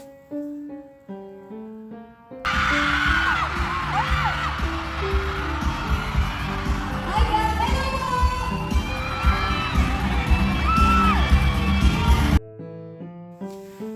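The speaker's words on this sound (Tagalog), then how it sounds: "Mas lalong lumakas ang sigawan o hiyawan nang maghawakan na ng kamay" Crowd at a mall show in KCC Mall Marbel, Cotabato, screaming and cheering loudly and continuously, with shrill shouts rising above the roar, bracketed by short stretches of music before and after.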